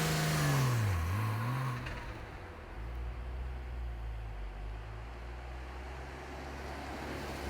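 A car driving with a 360 camera suction-mounted on the inside of the windscreen gives a steady low engine and road rumble, with a brief rising rev early on. It stays moderately loud and continuous throughout.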